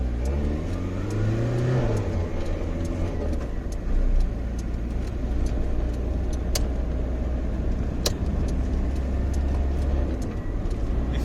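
Citroën BX 14 RE petrol engine idling steadily, a low continuous drone with a brief revving swell near the start, recorded close by and without speech.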